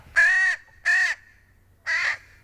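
Young crows caw three times, loud and near, two calls in quick succession and then a brief pause before the third.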